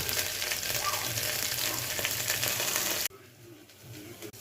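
Onions, green chillies and curry leaves fry in oil for a dal upma, with a loud sizzle and stirring that cuts off abruptly partway, leaving faint quieter handling sounds.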